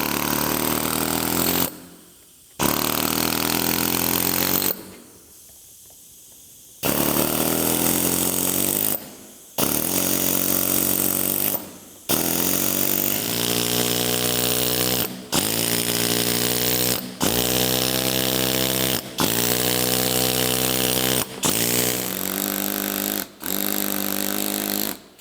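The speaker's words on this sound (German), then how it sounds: "Mit dem Winkelschleifer wird der Kante die erste grobe Form gegeben." An angle grinder roughs out the edge of a sandstone window sill, cutting in loud, harsh bursts broken by short pauses where the motor spins down, close up with no talking.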